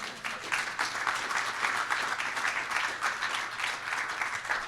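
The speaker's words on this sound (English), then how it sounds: "one more round of applause for all the speakers" A round of applause for the speakers at the close of a grassland restoration talk, steady and fairly faint, heard from a distance, with continuous clapping from the audience lasting the whole stretch without fading.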